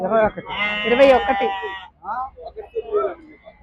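Rams at a livestock market in Miryalaguda, Nalgonda district, Telangana give a loud, close, wavering bleat, followed by shorter calls mixed with people talking nearby.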